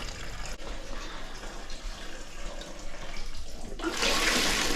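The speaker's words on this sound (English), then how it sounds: "then oil and everything comes all the way out" Oil drains out of an RB30DET engine during a rebuild, a steady rushing, splashing pour that runs without pause and grows louder and brighter near the end, with no talking.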